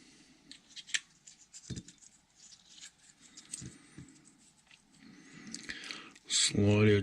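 Scissors snipping the ends of electrical wires before heat-shrink tubing goes on, a few crisp cuts spaced across quiet handling noise, with a louder rustle near the end and soft speech faintly underneath.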